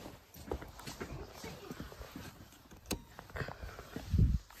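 A horse's hooves clop unevenly on hard ground on a farm at dusk as it is led to be shut in, with close scuffing steps and a heavier thud near the end.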